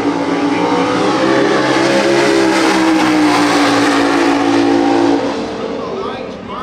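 A Pontiac Firebird street car accelerates hard down a drag strip, its engine holding a loud, sustained roar with a rising pitch before it fades toward the end, and people talk over the noise.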